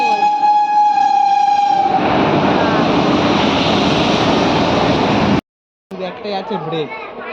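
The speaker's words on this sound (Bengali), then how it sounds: "ট্রেন আসছে না ওটা দুরন্ত আসছে ছোট দুরন্ত এই দুরন্ত আসছে" A Duronto express train approaches an empty rural station, its loud horn giving way to a steady roar of rolling wheels and carriages close by, with a brief cut to voices and station bustle at the end.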